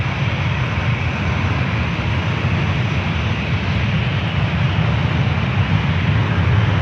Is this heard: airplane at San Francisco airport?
yes